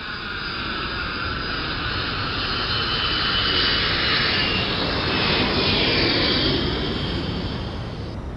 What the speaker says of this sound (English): we can hear those engines going